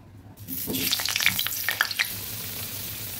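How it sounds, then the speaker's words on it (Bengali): Potatoes and papaya fry in hot oil in a wok with salt and turmeric, giving a steady close sizzle with crackling pops and some stirring clatter, no voices. "এখন প্রথমেই আমি পেঁপে আর আলুগুলোকে ভেজে নিচ্ছি নুন হলুদ দিয়ে।"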